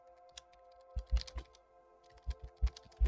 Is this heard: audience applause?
no